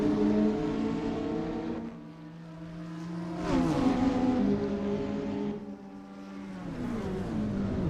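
A McLaren GT4 race car powers down the back straight of the Long Beach street circuit, its engine note rising and falling steadily through the gears, loud and continuous with a brief dip mid-run.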